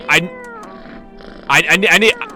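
A video game cat meows as it is petted, giving one short meow and then a burst of several louder meows close up.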